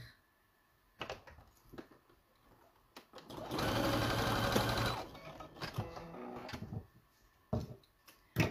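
A sewing machine stitches elastic into a turtle-shaped pincushion, running in one steady burst of about two seconds, framed by close fabric handling clicks and taps.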